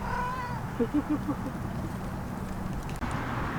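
A few short, soft cat meows come early, faint against a steady background hum, then quiet.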